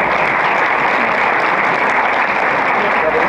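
An audience at a Hindi poetry gathering (kavi sammelan) of the International Hindi Association claps steadily, a dense, loud wash of applause filling the whole stretch without pause.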